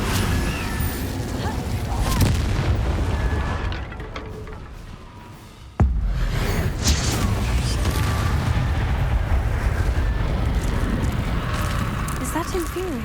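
Incendio fire spell cast in Hogwarts Legacy combat, a loud sustained burst of roaring flame and rumbling noise, with a sharp crack midway, over a dense game soundscape.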